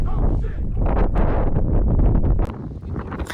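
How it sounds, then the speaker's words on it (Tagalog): Strong gusts on the Mt. Batulao hiking trail buffet the microphone in heavy low rumbling bursts, loud and close, with a sharp drop near the end. "sobrang lakas na ng hangin dito"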